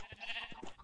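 A short blocky sheep from Minecraft bleats faintly while being led on a leash, a quick wavering baa or two.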